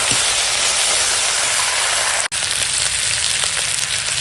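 Potatoes fry in oil with green chilli and bay leaf as ginger paste and tomato go in, giving a loud, steady sizzle broken by one brief cutout partway through.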